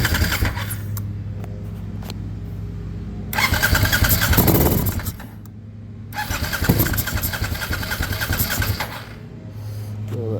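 A 2001 Suzuki TL1000R motorcycle with a fuel-injection fault cranks and catches, then runs roughly, its close engine noise surging for a couple of seconds, dropping back, then rising again and settling into a rough, uneven run.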